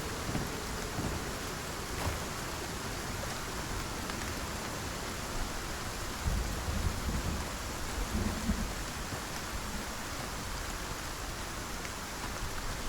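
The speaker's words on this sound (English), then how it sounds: "there it's going down as the storm is passing" Steady heavy rain pours down while deep thunder rumbles in the middle stretch, a continuous storm in the video game Icarus with no voices.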